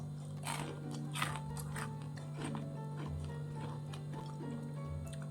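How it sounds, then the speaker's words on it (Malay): Crunchy homemade almond cookies being bitten and chewed close to the mic, with repeated crisp crunches at a steady pace over a constant low hum and no talking. "Kerangupan di setiap kunyahan tau."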